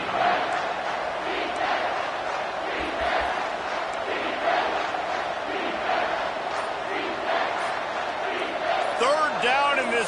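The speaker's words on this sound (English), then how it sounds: "This crowd will blow out a vocal cord to help this defense" A stadium crowd at a Michigan college football game roars continuously and loudly, a dense wall of cheering and shouting from many voices throughout, with faint whistles near the end.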